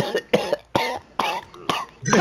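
A young man coughs repeatedly in quick, harsh bursts, about five close, loud coughs with short gasps between, during an NBA 2K23 online gaming session.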